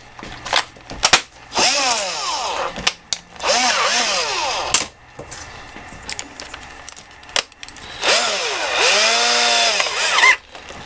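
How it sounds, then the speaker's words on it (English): A power drill whines up and down in several bursts, pre-drilling holes in wood with rising and falling pitch, close by with brief pauses between holes. "I'm gonna go ahead and pre-drill the holes."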